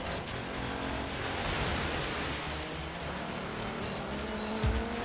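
Isetta microcar driving in the video game Forza Horizon 3, a continuous dense engine and road roar with faint tire noise and a small bump near the end.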